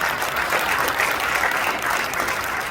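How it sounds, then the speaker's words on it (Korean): Audience applause in a large auditorium at a Korean church council general assembly, welcoming delegates to the front: steady, dense clapping from a big crowd, sustained and even throughout. "인사할 때 박수로 환영하겠습니다"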